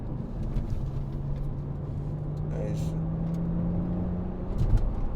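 A BMW Z4 sDrive23i convertible accelerates on a transmission kick-down, its engine note rising steadily beneath road and wind noise inside the cabin.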